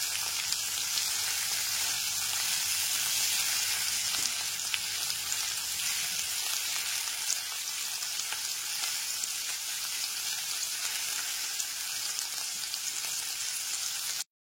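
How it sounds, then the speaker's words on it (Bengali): Thinly sliced onion fries in oil in a pan over low to medium gas flame, giving a steady, even sizzle that holds at constant loudness throughout with no voices. "গ্যাসের ফ্লেমটা লো টু মিডিয়ামে রেখে পেঁয়াজটাকে ভেজে নেব।"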